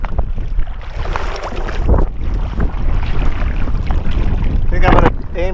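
Wind buffets a kayak on Lake Superior in a loud, rumbling rush that roars and gusts right at the microphone, with brief bursts of louder noise and a faint voice near the end.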